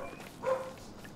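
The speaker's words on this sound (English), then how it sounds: "And my dog is being a jerk." A dog in the game Don't Starve gives a single brief, faint bark over a quiet background.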